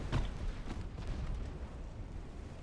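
A torpedo hits a transport ship in the naval video game Ultimate Admiral: Dreadnoughts, set in 1910: a sharp thud opens a low, rumbling explosion that rolls on steadily, with no talk over it.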